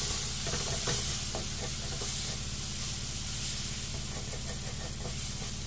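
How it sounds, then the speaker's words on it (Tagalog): Shrimp paste (bagoong alamang) sizzling and stirred in a pan, a steady close fry hiss with faint scraping and clinks throughout, no talking. "Ayan lang po natin, maluto yung ating bagoong. Salty ng konti ang ating bagoong alamang."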